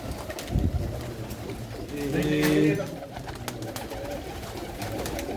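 Pigeons in a loft coo in a low throaty burst near the middle, with a softer murmur around it and faint background noise; no one talks over it.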